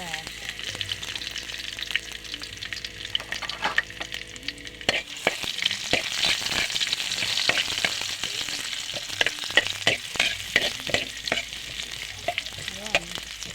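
Onion goes into oil with garlic already browned, bringing up a fuller, louder sizzle after a quieter start, with frequent clicks and scrapes from stirring.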